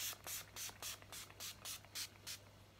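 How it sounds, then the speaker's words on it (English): Urban Decay All Nighter setting spray mists out in about nine short, even pumps, each a soft close hiss separated by brief pauses. "The final product I'm going to use is the Urban Decay All Nighter Setting Spray"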